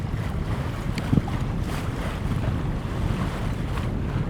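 A sailboat beats against a light wind on a canal route across Zeeland, with a continuous low wind rumble on the microphone and water washing softly around the hull. Nobody speaks.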